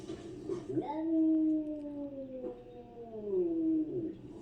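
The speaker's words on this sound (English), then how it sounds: "Caterwauling is a cat vocalization that sounds like a cross between a yowl, a howl, and a whine" A long, drawn-out wavering yowl with rising and falling pitch, two sustained cries, fairly close and alone.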